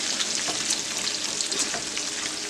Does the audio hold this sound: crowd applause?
no